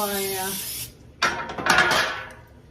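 A short burst of cooking spray hisses near the mic onto a baking sheet, then a second longer spray follows with a slight metallic rattle, no talking.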